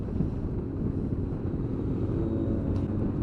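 A motorcycle passes with a low, rumbling engine drone that holds steady and loud throughout, with no voices over it.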